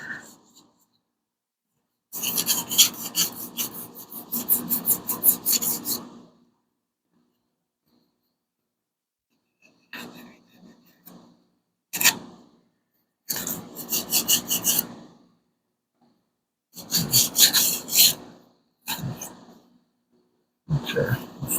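A sanding block rasps across the body of a Hemi Plymouth Duster in several bursts of brisk back-and-forth scrubbing, separated by quiet pauses, close and fairly loud.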